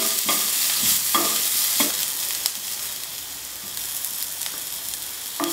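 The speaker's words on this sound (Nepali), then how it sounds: "अब म यसमा थोरै बेसार पनि राख्छु।" Onions with turmeric stirred while frying in a pan for tomato and soybean pickle: a loud continuous sizzle up close, with a handful of spatula scrapes spaced about a second apart.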